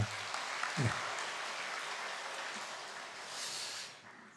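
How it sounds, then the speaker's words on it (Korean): Congregation applause during a Sunday service at a Methodist church, a steady broad wash of clapping from many people lasting several seconds before tapering off. "역시 박수하겠습니다"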